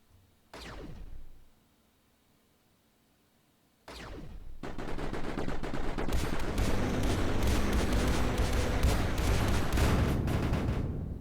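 Quad units in the Mindustry video game bomb an enemy core, with two sharp booming impacts early on, then a dense, loud, continuous barrage of explosions rumbling on to the end.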